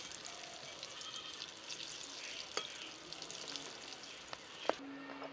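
Potato snacks fry in hot oil in a home kitchen, a steady soft sizzle and crackle with a few faint scrapes and taps of a utensil stirring the pieces, quiet and close with no talk.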